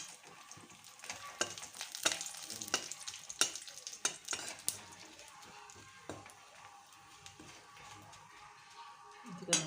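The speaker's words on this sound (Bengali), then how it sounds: "এবার এর মধ্যে দিলাম দুটো তেজপাতা, শুকনো লঙ্কা, জিরে," Bay leaves, dried chillies and cumin fry in oil while being stirred, with sharp spoon scrapes and taps over a soft sizzle, fairly quiet and close, the taps coming irregularly.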